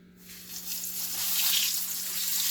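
A vegan chik'n patty drops into hot oil and sizzles: a bright, crackling hiss that swells quickly and holds steady, close and fairly loud, with no talking over it.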